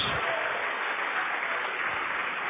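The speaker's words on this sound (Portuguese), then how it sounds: "Vamos aplaudir mais o Senhor Jesus." A church congregation applauds continuously, a dense wash of many hands clapping at even loudness from start to end with no pauses.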